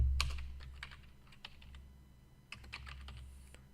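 Quiet, close typing on a computer keyboard, with irregular clusters of soft key clicks and a few sharper taps over a low steady hum, while a programming variable is entered.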